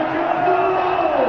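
A stadium crowd roars and cheers at a Lahore Qalandars vs Karachi Kings PSL cricket match after a super-over win, a loud, dense, sustained wall of voices heard briefly.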